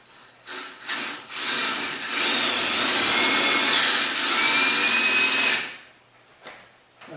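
A drill bores a 2-inch hole into a log staircase for balusters, a loud sustained grinding whine running about three and a half seconds, preceded and followed by brief shorter bursts as the bit starts and stops.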